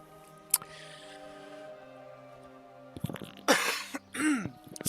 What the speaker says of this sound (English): I still got this cough.